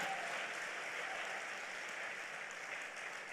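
A church congregation at Revival Palace claps hands together in sustained, dense applause that stays steady and loud throughout, with no voices standing out.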